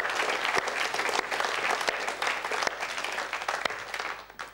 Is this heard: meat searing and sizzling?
no